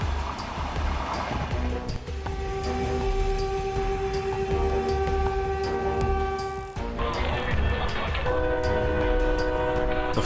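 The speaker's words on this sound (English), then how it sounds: "the train sped forward at around 110 kilometers per hour" A train speeds past at around 110 km/h, its horn blaring in long sustained chords over a loud, continuous rumble of wheels on track; the horn cuts off briefly and sounds again near the end.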